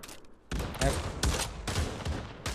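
Gunfire in the VR game Pavlov, with loud overlapping bursts of shots and a few sharper single cracks, dense and continuous after a short quiet start, with no talk over it.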